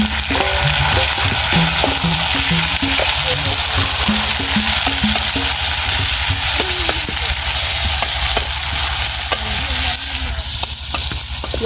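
Tomatoes and onion sizzle steadily in a hot pan in a village kitchen, with a constant frying hiss and occasional scraping stir sounds close by, and a faint voice in the background.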